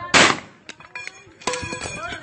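A single sharp gunshot bang cracks loudly at the start, decays quickly, and is followed by scattered clatter and voices.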